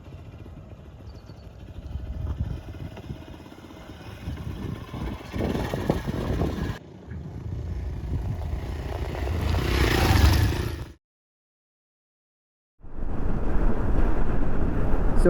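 A Hero Xpulse 200 4V motorcycle ridden off-road, with a steady engine roar mixed with heavy wind buffeting on the microphone, briefly cutting to silence before resuming.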